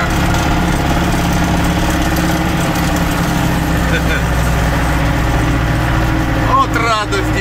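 Tractor engine running while clearing snow in a village, a loud steady mid-pitched rumble with a knocking idle throb throughout, close by, with a brief voice near the end.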